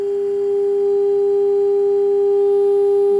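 A loud, steady electronic tone from the audio output of an HP 8561E spectrum analyzer, held as one pure unbroken pitch with faint harmonics and no talking.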